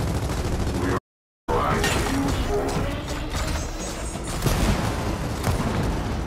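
Gears of War gunfire, a dense continuous clatter of shots and crashing impacts with a brief silent break, loud and busy throughout, with a little talk underneath.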